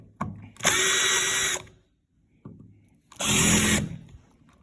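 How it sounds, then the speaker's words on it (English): A power drill backs out the screws of a wall light switch in two sustained bursts of whirring, close and loud, separated by a short quiet gap and a faint click. "So first you want to take your screws out."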